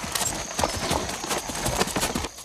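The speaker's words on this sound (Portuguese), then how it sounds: "monta agora uma égua da raça Campolina, também desenvolvida em Minas Gerais" A Campolina mare's hooves clip-clop in a quick, steady gait on firm ground, close and fairly loud with a continuous background hiss.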